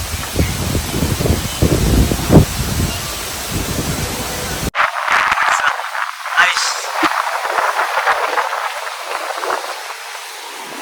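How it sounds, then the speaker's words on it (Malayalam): Strong wind outdoors on Lakshadweep buffets the microphone with a heavy, low rumble and hiss, then shifts to a thinner, gusty rustle, loud and constant. "പുറത്തെന്താ വൈബ്, ഭയങ്കര കാറ്റ്."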